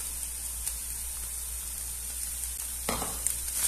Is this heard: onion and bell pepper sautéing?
yes